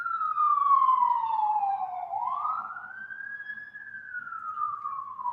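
A single emergency-vehicle siren wails clearly, sweeping down and then rising again in a slow, smooth glide, fairly close and steady with no voices over it.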